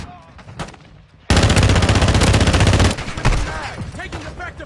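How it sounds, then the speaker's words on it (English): Rapid automatic gunfire in a combat video game erupts as a loud, sustained burst lasting well over a second. Scattered shots and heavy impacts follow, with voices heard before and after the burst. "Taking effective fire."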